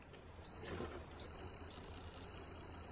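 A continuity tester sounds three steady electronic beeps, each lasting about half a second, when its probes touch the two ends of the same 12-volt wire during skoolie bus wiring. The beeps are loud and clear over a quiet background.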